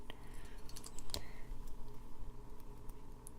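Small Lego edge pieces snapping onto a Star Wars Imperial Trooper Battle Pack build, with a sharp click near the middle among light plastic rattling, close and quiet.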